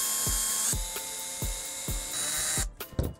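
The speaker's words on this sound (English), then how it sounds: "You can do that by drilling around the pin before popping it out." A power drill bores around the flash hider pin of an ARES Amoeba AM-016 airsoft rifle, with short repeated whirring bursts at a steady rhythm, close and clear, ending in a few clicks.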